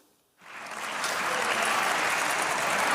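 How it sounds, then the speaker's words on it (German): Applause from members of the German Bundestag, starting abruptly after a brief quiet moment and swelling into steady, dense clapping that holds loud and sustained throughout. "Die AfD aber jubelt."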